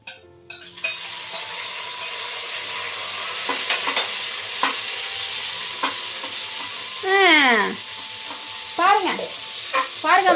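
Chopped tomato sautéing in oil for mutton biryani, a steady close sizzle with repeated stirring scrapes of a ladle against the pot, a few louder scraping sweeps later, and no talk.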